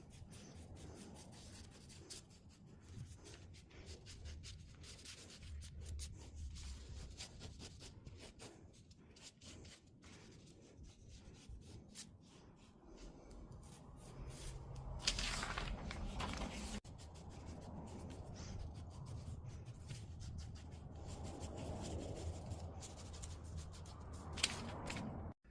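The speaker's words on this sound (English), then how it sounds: "I'm gonna use chalk to trace because I can wipe it off once" Chalk tracing on fabric while making a doll's hooded cloak, faint scratchy rubbing strokes that come and go irregularly over a quiet background, with a couple of light knocks.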